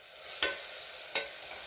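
Ginger garlic paste frying in a pan as it is stirred, with a steady soft sizzle broken by two sharp scraping strokes of the spoon against the pan.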